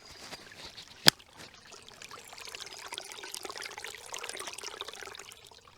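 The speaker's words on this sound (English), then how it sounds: "The sound of running water is just absolutely divine, isn't it?" Running water from a small stream in an ancient bluebell woodland, a soft continuous trickle and babble that builds gradually, with one sharp click near the start.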